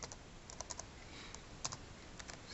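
Fingers type a network ping command on a computer keyboard in a quick run of light, close key clicks with brief pauses, faint and alone.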